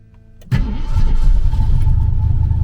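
A car engine cranks and catches abruptly, then settles into a loud, rough idle close by.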